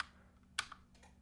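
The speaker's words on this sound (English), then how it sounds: "I'm using my keyboard to control my lights" A Third Reality Matter smart keyboard gives a few faint, close key clicks, one sharper tap standing out among quieter presses, over a low hum.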